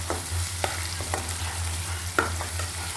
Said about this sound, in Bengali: এখন আমি তেলের সাথে পেঁয়াজের সাথে ভেজে নেব।